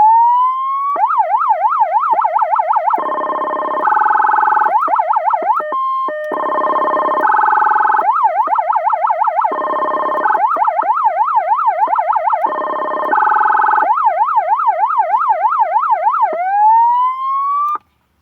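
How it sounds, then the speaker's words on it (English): A loud Tomar 940 electronic siren amplifier cycles through several tones: rapid yelps, steady wails and warbling hi-lo patterns, switching every second or two without any talking. "you can actually cycle through the tones while in secondary tones"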